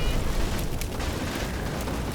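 Artillery in Combat Mission Final Blitzkrieg rumbles as a continuous low, distant roar of explosions with a few faint cracks on top, steady and without talking.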